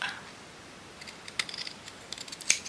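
Scissors snip through craft material while making embellishments, giving a few quiet, sharp cuts spaced apart against a low room background.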